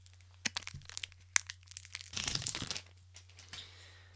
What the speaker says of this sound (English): let's unwrap this and have a taste